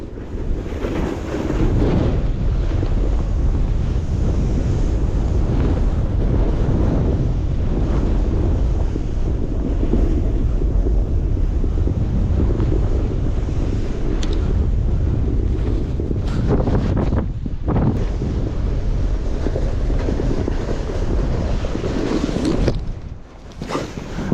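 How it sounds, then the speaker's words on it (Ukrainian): Strong, gusty wind buffets the microphone during snow kiting at the Bukovel ski resort, a continuous loud roar that surges and dips unevenly, briefly dropping away near the end, with no voices. "Ну вітер капець нестабільний."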